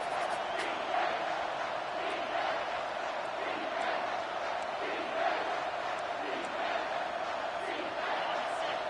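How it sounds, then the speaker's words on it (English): A football stadium crowd roars loudly and steadily behind the defense on third down, a dense, continuous wall of cheering with voices audible in the mix. "Decibels rising as the crowd gets behind this defense on third down"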